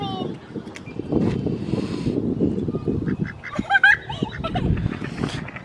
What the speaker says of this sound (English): And the ducks are coming.